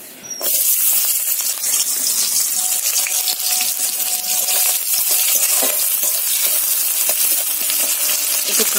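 Chopped onions drop into hot oil in a kadai and burst into a loud, continuous sizzle that sets in after a short quiet start and holds steady, with faint stirring scrapes and no speech.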